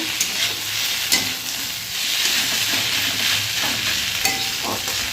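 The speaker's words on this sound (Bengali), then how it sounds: "অনেকটা প্রায় ভাজা ভাজা হয়ে এসছে পেঁয়াজটা" Steady, close sizzling of onions frying in a pan, with occasional stirring scrapes and clicks; no talking.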